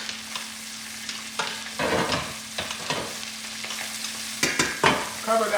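Salt is stirred into food sizzling in a pan, with loud scraping and stirring bursts over a steady close fry.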